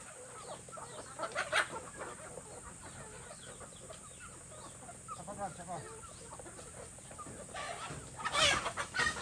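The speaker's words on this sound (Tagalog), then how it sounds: "At saka siyempre, Brad Cesar, nagdakip na ng manok." A captured chicken clucks in short bursts outdoors while people talk and shout nearby.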